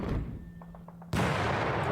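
A few faint muffled thumps of mortar fire in the Panzer Campaigns wargame, followed by a sudden loud sustained burst of explosive noise that continues to the end.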